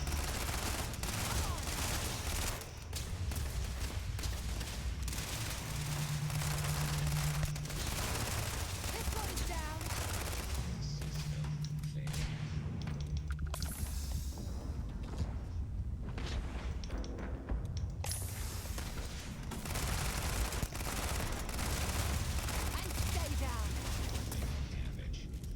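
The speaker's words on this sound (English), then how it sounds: "Who the fuck is shooting?" Gunfire in the Starfield video game, repeated bursts of shots and booms spread through a dense, busy game soundtrack, with voices talking over the action.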